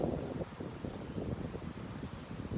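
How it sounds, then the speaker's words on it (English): Gusty wind buffets the microphone in a continuous low rumble on a hot day in a park, with faint rustling in the background and no voices. "somehow I like this windy day when it's really nice and hot."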